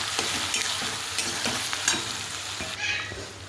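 Onion, ginger and garlic sautéing in a pan for a village-style chicken curry, a steady close sizzle with scraping and stirring strokes throughout, no voices.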